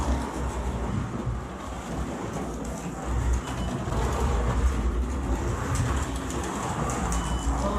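A Carrera Digital Mustang slot car laps the track on freshly trued tires, giving a continuous whirring drone with a slowly shifting level and no talk.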